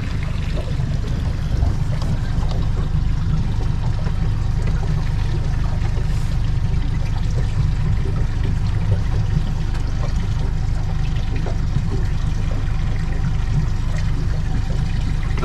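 A boat moves across open water with a steady low engine drone and constant splashing and rushing of water against the hull, loud and close with no break.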